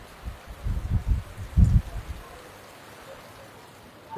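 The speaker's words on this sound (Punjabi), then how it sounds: "ਸਾਰੇ ਅਬੋਹਰ ਦੇ ਵਿੱਚ ਮੀਂਹ ਪੈ ਰਿਹਾ ਹੈ" Heavy rain falling across Abohar in Punjab, a steady hiss of rain with a few louder low rumbling bursts early on before it settles into an even wash.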